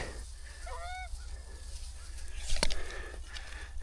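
Geese honking over an open hunting spread on a windless day: a short burst of several nasal honks near the start, then fainter calls amid soft outdoor noise and a brief sharp knock.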